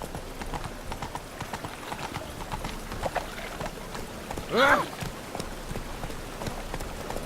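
Roach, the horse in The Witcher 3: Wild Hunt, gallops with steady rhythmic hoofbeats close by, backed by a rain-like patter and a brief loud snort or whinny partway through.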